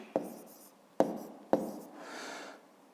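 Pen or chalk writing on a surface, three distinct taps with brief scratching strokes followed by a softer, longer rubbing stroke, close and without talk.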